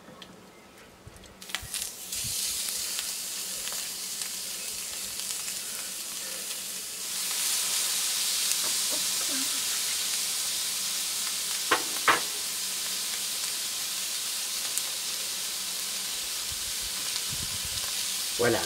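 Noodles sizzle steadily on a hot plancha grill beside a kamado, with a continuous frying hiss, occasional knocks and scraping as they are stirred, and no voices.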